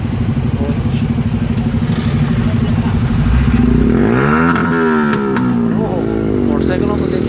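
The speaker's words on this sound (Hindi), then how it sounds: "मोटरसाइकिलों को देखिए।" Motorcycle engines rumble and rev close by amid steady night-time city traffic noise in Karachi, with a rising whine as one passes.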